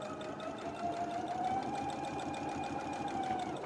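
A sewing machine stitches fabric with a steady, rapid mechanical whir and rhythmic needle ticking, running continuously and close for several seconds without talk.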